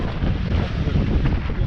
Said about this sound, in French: on a vraiment le vent dans le pif